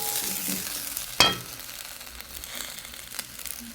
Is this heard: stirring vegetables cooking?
yes